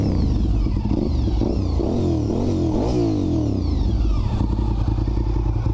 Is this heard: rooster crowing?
no